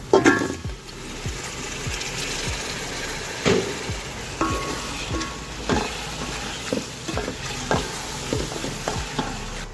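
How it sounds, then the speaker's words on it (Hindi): Chicken pieces with garam masala, black pepper and salt fry over high heat for a yakhni pulao, a steady close sizzle broken by repeated scraping stirs of a spoon against the pan, with no voices. "चिकन ऐड करने के बाद हम अपने मसाले को तेज़ आंच पर भून लेंगे"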